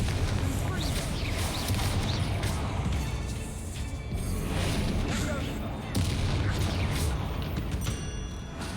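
Confringo fire-blast spells go off in Hogwarts Legacy inside a tomb, with a dense run of booming, crackling impacts and debris rattling throughout, a voice faintly under the din.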